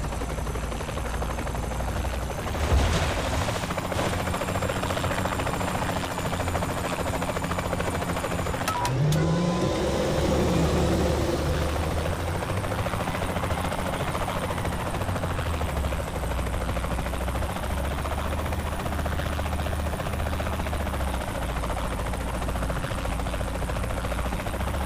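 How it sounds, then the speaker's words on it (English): A helicopter from the video game Saints Row: The Third flies overhead with a steady, loud rotor drone and engine hum throughout, holding a constant level with a brief surge partway through. "Where's that guy in the helicopter going?"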